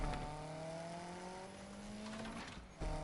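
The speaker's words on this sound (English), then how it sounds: "this car definitely sounds better. It's still, a 4-cylinder, so not the best sounding engine" A 4-cylinder car engine in the Need for Speed Unbound racing game revs up steadily, its pitch climbing through a gear, then briefly dropping and surging again, heard fairly quietly.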